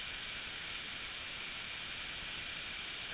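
A waterfall along a hiking trail at Glen Onoko gives a constant, dense hissing rush, loud and close, unbroken for the whole stretch with no voices.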